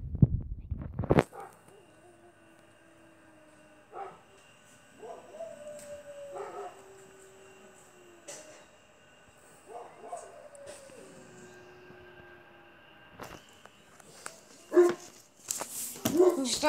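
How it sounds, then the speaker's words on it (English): Dogs give faint, distant barks and drawn-out whining yips scattered across a quiet stretch, with a few louder bursts near the end. "These dogs have been barking a lot."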